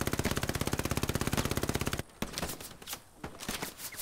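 Machine gun fire in the WWII game Hell Let Loose, a fast, loud, unbroken burst of rapid shots for two seconds, followed by scattered distant gunfire.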